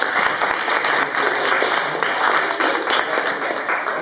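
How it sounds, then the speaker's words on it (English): Enthusiastic applause for a girl at an open mic event, a dense, continuous roar of many hands clapping close by at steady loudness. "Hey, clap her up."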